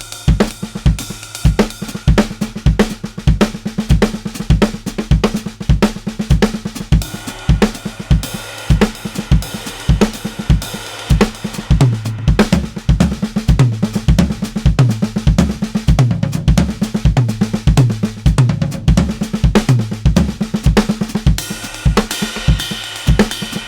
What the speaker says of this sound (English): if I were to just do a 5/4 thing, that would sound like this.